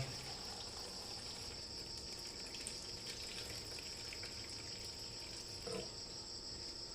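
Water being poured out of a basin, a steady gushing and trickling flow that runs continuously and close by, with a brief knock partway through and no talk.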